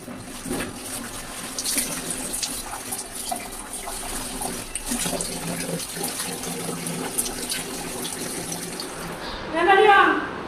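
Clothes being washed under running water in a bathroom, a continuous splashing gush with sloshing and handling noises and a louder burst of water near the end, while a voice talks faintly in the background.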